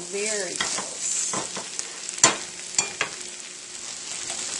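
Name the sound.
stirring caramelizing onions frying in a pan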